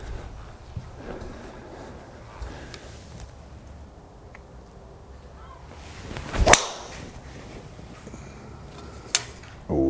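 A golf driver, either a Titleist TS3 or a Mizuno ST190G, strikes a ball on a practice range with a single sharp, solid crack midway through, followed by a fainter click near the end over quiet outdoor background.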